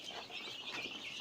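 Dense chorus of young chickens chirping continuously in a brooding area holding a few hundred birds, faint and steady throughout with no talk.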